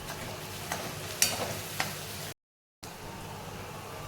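Chopped onions fry in a pan for mutton keema, a steady close sizzle broken by a few stirring scrapes and a brief dropout to silence partway through.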